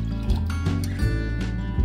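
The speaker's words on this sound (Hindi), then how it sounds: "उसी कप के हम 2 कप पानी डाल देंगे।" Water pours into a pot for cooking rice on a gas stove, a close, gurgling liquid splash with uneven surges as it fills.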